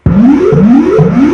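A dubstep scream synth patch built in Massive sounds loud and alone, sweeping upward in pitch three times in a steady repeating wobble.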